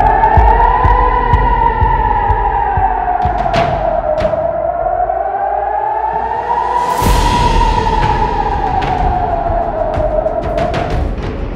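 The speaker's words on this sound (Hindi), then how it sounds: "और उसके बाद से पूरे इजराइल में सायरन बजने शुरू हो जाते हैं।" A loud wailing air raid siren in Israel during an Iranian missile attack, rising and falling slowly, with sharp bangs and a rushing whoosh breaking through partway.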